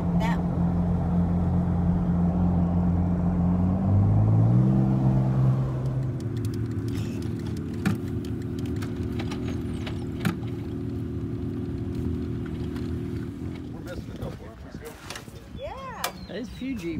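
Jeeps on an off-road trail ride at Wilderness Rider OHV Buffalo Ranch give a close, loud engine drone that shifts pitch and then settles lower, with people talking over it and a few knocks near the end.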